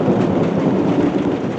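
Rain pours steadily outdoors with a low rumble of thunder underneath, a dense, even wash of noise with no voices.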